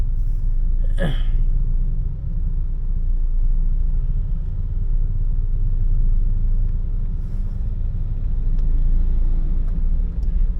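Road traffic heard from inside a moving vehicle in congested traffic near a bridge, a steady low engine and road rumble filling the whole stretch, with a brief hiss like an air brake near the start.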